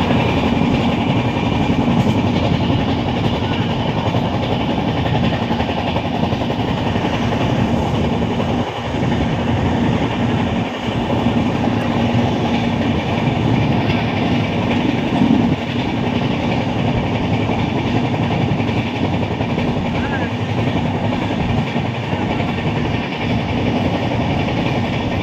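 A train runs along the rails, heard from inside a carriage: a loud, constant rumble and roar with faint rhythmic clatter, steady for the whole stretch and without voices.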